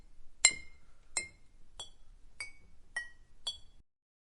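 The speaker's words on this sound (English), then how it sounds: "That clinking." Glass clinks in the video game Z.A.T.O.: six bright, ringing taps evenly spaced about half a second apart, close and clear against silence, with no talk.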